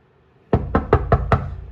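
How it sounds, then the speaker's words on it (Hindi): Knuckles rap on a house door in five firm, evenly spaced knocks, close and loud, each a sharp thud with no talking. "दरवाज़ा नॉक करता हूँ।"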